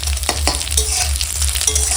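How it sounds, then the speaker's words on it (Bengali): Dried red chillies, bay leaf and panch phoron crackle and spit in hot oil, a loud, close frying hiss with quick stirring scrapes over a low hum, and no one speaks. "এই তেলের মধ্যে এখন দিয়ে দিচ্ছি শুকনো লঙ্কা তেজপাতা আর পাঁচফোড়ন"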